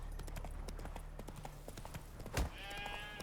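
Roach the horse galloping in The Witcher 3, a rapid, even clip-clop of hooves close by, with one heavier thump near the end.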